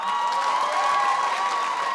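Audience applause at a comedy show, a dense steady patter of clapping from a crowd with faint cheers mixed in, sustained and fairly loud throughout.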